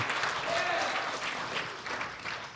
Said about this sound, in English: Clap if you're here from TikTok, Instagram, all that nonsense.